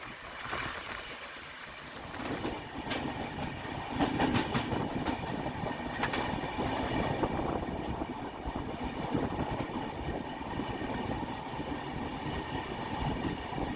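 The Barbil Jan Shatabdi Express runs on tracks near Chakulia in Jharkhand, easing for a signal. A steady rumbling roar fills the cabin, with rhythmic clickety-clack and occasional sharp metallic clicks throughout.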